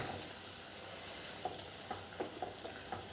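A pot of pomfret curry bubbling softly, a quiet steady hiss broken by small, irregular pops and bursts.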